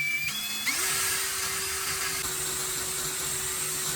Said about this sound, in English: Take the pot back off and drill 2 clean holes right on those marks.